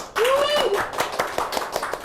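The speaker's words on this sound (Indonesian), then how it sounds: "boleh tepuk tangan dulu" Sparse, scattered hand claps from an audience at an alumni talk event, a few distinct slaps spaced apart after a voice speaks at the start.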